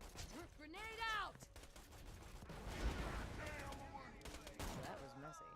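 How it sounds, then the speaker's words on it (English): Gunfire and a grenade blast in the shooter Borderlands 2, scattered shots and a dull burst amid chirpy synthetic game effects, fairly quiet, with voices talking over it. "Grenade out!"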